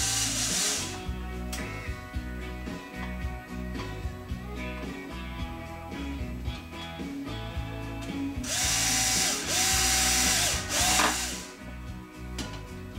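A power drill bores out a plastic servo horn for a model airplane build, whirring and chattering steadily up close, with pitch dips as the bit bites and a louder surge near the end.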